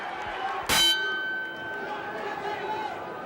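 A boxing ring bell gives a single sharp clang to open the second round of the Tommy Morrison vs Joe Hipp heavyweight fight at Bally's in Reno, its bright tone ringing out and fading slowly over a low arena crowd murmur.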